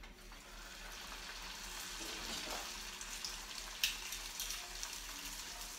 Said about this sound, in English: You'll go ahead and fry it for about 1 minute on both sides until they're golden brown.